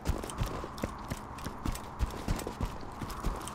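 Steady horse hooves clip-clopping at a walking rhythm in Borderlands 2, close and even, over a dense background hum.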